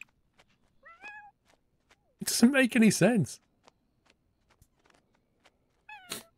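Short game-character cat meows from The Sims 4, one small meow near the start and another at the end, with a burst of human speech in between.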